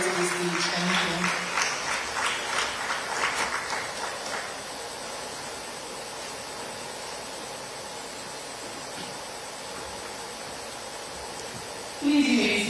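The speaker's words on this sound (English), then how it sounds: "A round of applause, please, for them as they lead their way to the stage." Applause from a conference audience in Nigeria crackles loudly for the first few seconds, then fades into a dull hiss of room noise, with a brief voice-like burst at the very end.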